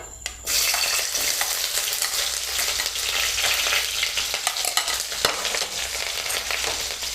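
Onions frying in hot oil in a kadai give a loud, steady crackling sizzle that starts abruptly and runs unbroken, with a few sharp pops and no talking.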